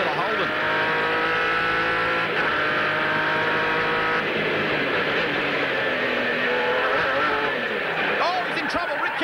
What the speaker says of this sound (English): Listen to the awesome sounds of that Formula Holden.